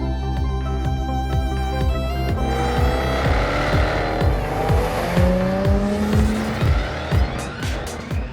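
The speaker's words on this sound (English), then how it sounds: "test driving the all-new Jaguar F-Type, the first two-seater sports car from Jaguar in over 50 years" An all-new Jaguar F-Type two-seater sports car drives on roads in northern Spain, its engine note rising through repeated gear changes with loud, close revving and a brief tyre squeal.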